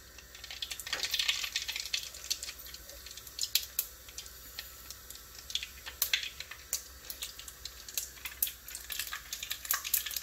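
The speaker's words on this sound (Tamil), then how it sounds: "இதை நான் முதல்ல வந்து கடுகை" Mustard seeds sputtering and popping in hot oil while tempering a Tamil fish kuzhambu, a dense run of sharp crackles and pops spread over the whole stretch, close and fairly loud, with no talking.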